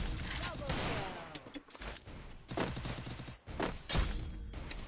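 Sniper rifle fire in a first-person shooter game, a run of loud sharp gunshots and thumps in quick bursts with brief gaps, fairly close and punchy.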